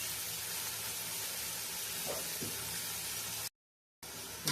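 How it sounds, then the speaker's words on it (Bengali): Shrimp sautéing in a pan with salt and turmeric gives a close, steady sizzling hiss that cuts out briefly to silence near the end. "চিংড়িটা কতক্ষণ কষিয়ে নেব"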